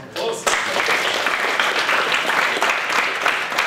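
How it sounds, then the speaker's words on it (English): An audience claps in a full, continuous round of applause that starts abruptly after a moment of talk, a dense steady wash of many hands. "All right, yeah, good round of applause."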